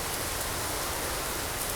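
Steady, dense hiss of rain pattering on aircraft windshields inside the X-Plane 12 flight simulator, unbroken and even for the whole moment.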